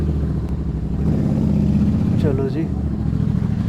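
Motorcycle ridden out of a ferry ship's hold in Japan, its engine droning steadily and close throughout, with a brief spoken remark partway through.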